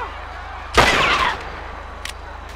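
A single loud gunshot blast from a shooting video game cuts through a quiet background and decays over about half a second, followed by a couple of faint clicks.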